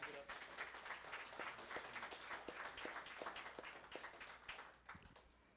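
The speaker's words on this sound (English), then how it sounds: "would you give the Lord a hand clap?" A church congregation clapping their hands, dense sustained applause from many people with a voice faintly under it, tapering off toward the end.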